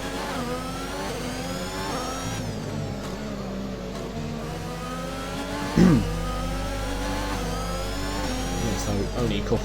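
A race car engine in a racing video game revs steadily with shifting pitch, then surges and whines as the car spins into donuts, loud and continuous throughout.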